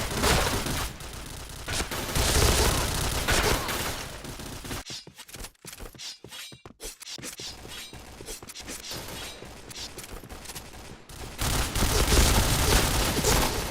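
Rapid bursts of gunfire from the first-person shooter Point Blank, loud and dense for several seconds, thinning to scattered shots and clicks mid-clip before heavy firing returns at the end.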